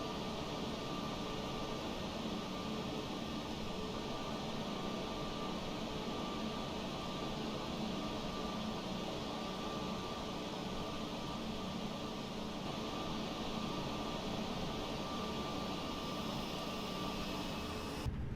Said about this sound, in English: Parking brake coming off, and let's put some power into this.